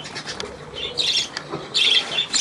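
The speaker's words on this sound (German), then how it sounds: "Herr Vogel, du, ja? Komm mal her" A pet bird gives several loud, harsh squawks in quick bursts, close by, with a faint rustle between calls.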